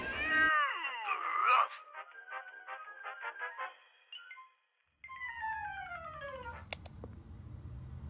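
A cat in the video game Dark Dreams Don't Die gives a few close, clear meows, followed by a series of tonal electronic game sounds and a descending chime-like sweep.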